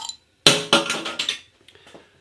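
A beer bottle with a silver crown cap is opened: a sharp metallic snap followed by a quick series of clinks and a short fizzing release, close and clear with no talking.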